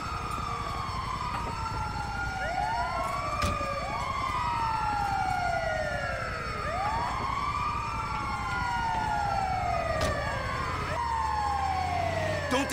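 An ambulance siren wails in repeated rising and falling sweeps, loud and continuous over steady engine and traffic noise in the video game GTA V.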